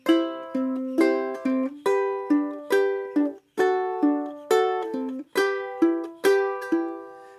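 Plucked ukulele strings fingerpicked in a repeating 1-2-4 then 3 pattern, bright notes ringing in a steady, even rhythm, close and clear with no voices.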